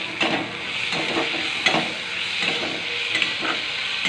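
Ground spices for a rohu fish curry frying and being stirred in a pan, with a steady close sizzle broken by repeated scraping stirs of a spoon against the pan.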